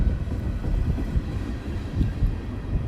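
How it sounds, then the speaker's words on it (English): A passenger train rolls along the rails as it slows near a rail yard, a steady low rumble of wheels and car noise close by with faint wind buffeting, no voices. "The train's slowing down right now because over there is actually a yard."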